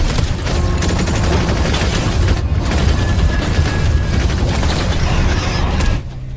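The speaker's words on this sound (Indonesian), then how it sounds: "terjadi aksi tembak-tembakan antara mereka yang cukup intens" A film shootout against aliens fills the scene with loud, sustained gunfire and booming blasts over mechanical clatter, rolling on densely before dropping abruptly near the end.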